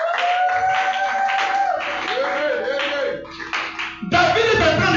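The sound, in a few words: congregation clapping to acclaim the word of the Lord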